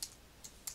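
Three quiet, separate key taps on a computer keyboard while a file name is typed, close but soft, with no voices.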